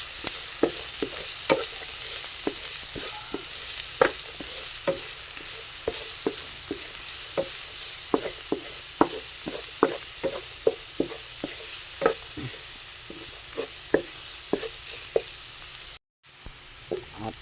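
Garlic and onion browning in a hot pan make a constant soft sizzle, crossed by regular scraping strokes of a spatula at a steady stirring rhythm, then a brief cut near the end.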